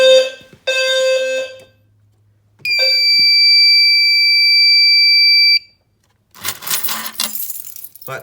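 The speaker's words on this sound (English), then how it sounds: "We can do a drill just for fun." A fire alarm system drill on an SFP-10UD panel: a loud electronic alarm sounds a steady high-pitched tone for about three seconds, preceded by short beeps and followed by a burst of clattering noise.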